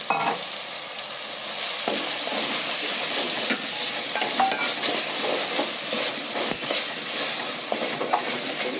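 Chopped shallots fry with a steady, bright sizzle and hiss in a pan for chicken curry, with occasional stirring scrapes and clicks standing out; continuous, close and fairly loud throughout, with no talking.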